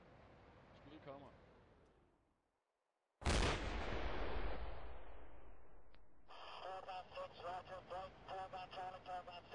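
An AT4 anti-tank weapon fires outdoors with one sudden, loud blast that rolls off into a long decaying rumble, followed by a rapid rattling crackle. Radio chatter and talk come before the shot.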